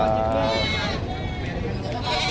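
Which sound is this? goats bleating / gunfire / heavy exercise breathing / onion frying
goats bleating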